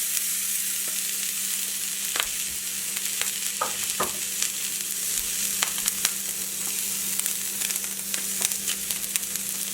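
Skin-side-down meat searing in a one-pan meal on medium-high heat, a steady close sizzle with scattered pops and crackles and a constant low hum underneath.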